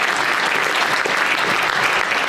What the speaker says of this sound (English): So, round of applause for the Atlantis.